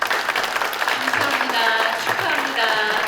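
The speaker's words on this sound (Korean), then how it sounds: "그럼 다시 한번 뜨거운 박수 보내주시기 바랍니다" Audience applause at a Korean researcher award ceremony, steady loud clapping from a full hall lasting throughout, with a voice speaking over it.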